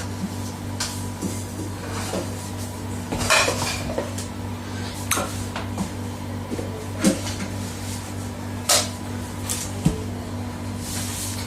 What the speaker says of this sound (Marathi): हे सगळे बाउल आहेत, ते काढून टाकू सगळं.